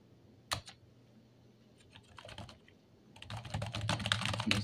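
Keys clatter on a computer keyboard hooked to an old Pentium 4 PC, sparse quiet taps at first, then a fast, busy burst of typing toward the end.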